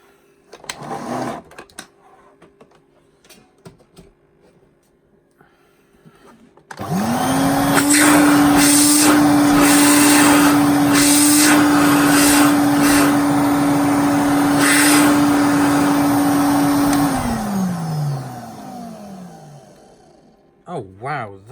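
A refurbished Electrolux 347 vacuum cleaner starts after a few quiet handling noises. Its motor gives a loud, steady whine for about ten seconds, then falls in pitch as it spins down.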